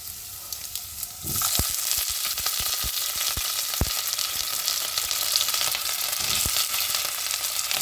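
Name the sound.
potatoes frying in oil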